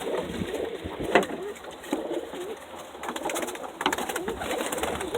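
Show pigeons, Birmingham Rollers and homing pigeons cooing in a loft, soft low repeated coos from several birds at close range over a steady background hiss, with no talking.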